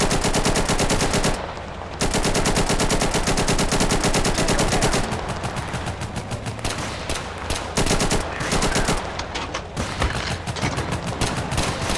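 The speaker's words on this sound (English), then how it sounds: "you can destroy them with heavy machine gun fire" Heavy machine gun fire in the video game Total Conflict: Resistance: loud, continuous rapid bursts with dense repeating shots that run almost the whole time, with only a brief drop in intensity.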